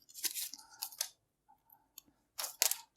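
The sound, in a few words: unwrapping plastic packaging of a GoPro Hero 12 camera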